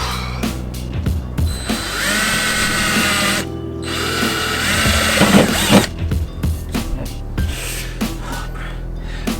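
A drill bores a Land Rover Defender's wing panel, first with a small 3.5 mm bit, then a step bit, giving loud, close whines that start and stop repeatedly, with brief pauses between bursts.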